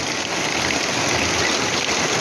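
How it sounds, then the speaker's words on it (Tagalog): Heavy rain pours steadily, a dense, continuous hiss of water drumming on surfaces with no letup. "napakalakas na ng ulan"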